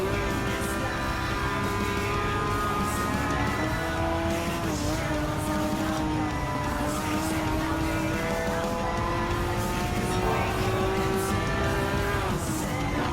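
A Porsche Cup race car in Gran Turismo 7 takes a hillside right-hand corner at the apex, its engine holding a loud, steady, high-pitched whine that dips and climbs slightly through the turn, continuous for the whole stretch.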